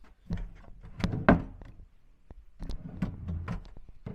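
Dresser drawers in a hotel room are pulled open and pushed shut, giving a series of wooden thunks and knocks with brief pauses between them, fairly close and with no one talking.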